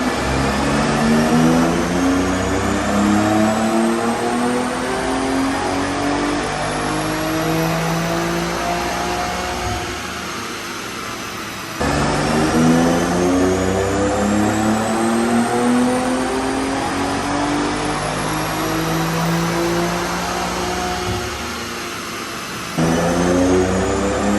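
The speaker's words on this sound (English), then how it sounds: "Here's baseline dyno hits." A BMW X3M strapped to a dyno for baseline pulls, its engine loud and close as it climbs steadily in pitch through two long full-throttle runs, with a brief drop between them and no talking.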